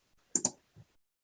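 Computer mouse clicking in a quiet room: two quick crisp clicks close together, then a softer third click a moment later.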